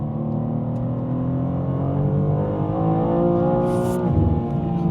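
The twin turbo 3 litre straight six of a G87 BMW M2 drones steadily and close, rising slightly in pitch as it pulls, on a cold day, with no talking.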